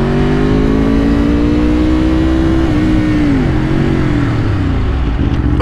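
A loud Aprilia RSV4 RF motorcycle engine revving, heard close up with a steady roar whose pitch rises slightly, dips, then settles, with no talking.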